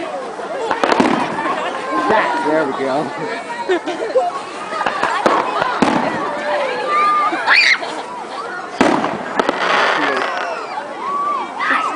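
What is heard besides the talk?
fireworks exploding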